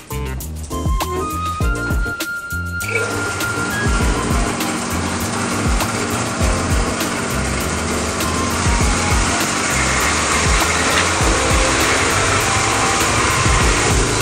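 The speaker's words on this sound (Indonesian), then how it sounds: "Setelah 1 malam kita pisahkan kulit ari di mesin pelepas kulit ari." A peanut skin removing machine runs at a traditional pecel food business, giving a loud, steady mechanical whir and rattle that holds constant throughout after a brief quieter start.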